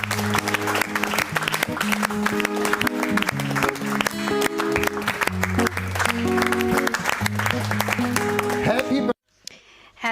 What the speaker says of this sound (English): it's time for a round of applause for all of you who